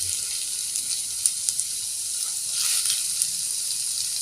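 Quail pieces going into ginger-garlic and curry leaves frying in a pan, a bright continuous hiss with a few sharp crackles and pops that swells slightly near the end.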